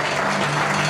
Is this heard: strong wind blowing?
no